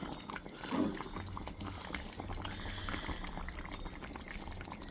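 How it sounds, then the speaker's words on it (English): Brown stew chicken simmers in a pot with a soft, steady bubbling and faint liquid burbles, quiet and close, plus one brief louder bump near the start. "So we need this to cook down."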